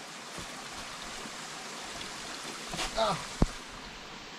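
A small jungle stream flows steadily near a waterfall, its soft continuous rush filling the background while a brief voice and a sharp knock cut in near the end.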